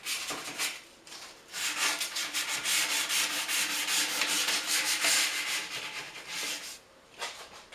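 Continuous abrasive sanding rounds the corners of a wooden nightstand, a steady gritty rub holding for most of the stretch and pausing briefly near the start and end, close and fairly loud with no talking.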